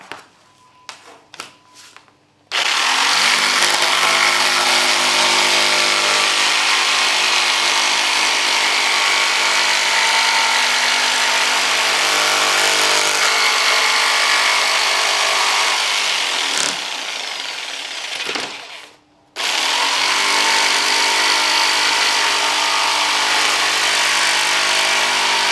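A power tool runs loud and close while cutting oak paneling pieces for a 27 ft Nauticus cruiser boat, a steady sustained whine that breaks off briefly midway and near the end before starting again, with quiet clatter at the start.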